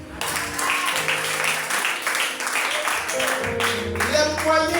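A church congregation applauds during a worship service, a sustained wash of clapping heard under a voice speaking and musical tones.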